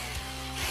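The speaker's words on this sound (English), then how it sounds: "Time for the power tools." A power tool strips old 1950s plaster from a wall, giving a steady, loud, broadband grinding roar that runs without a break.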